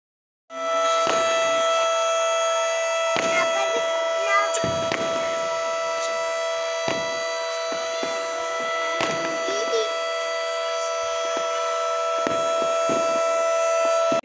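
A loud siren blares continuously to announce the moon sighting on Chand Raat, the eve of Eid, while firecrackers burst all around in repeated sharp bangs and thuds, some close and some distant.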